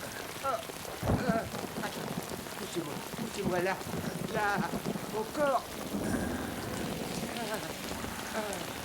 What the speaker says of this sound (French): Et en plus de tout, il pleut.